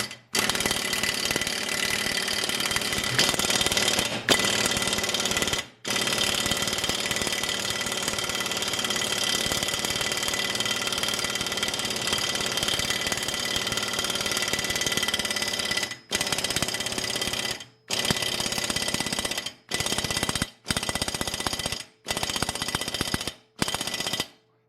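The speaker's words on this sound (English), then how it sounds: "let's get the air ratchet on that and see what that does" Air ratchet tightening the pinion nut on a Mercedes W109 differential: repeated loud, close bursts of rapid hammering rattle, a long run first and then several shorter bursts separated by brief pauses, no voices.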